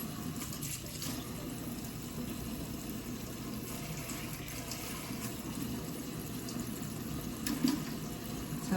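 Warm water pours steadily into a small measuring cup for cranberry sauce, making a continuous soft splashing rush throughout with a slight surge near the end.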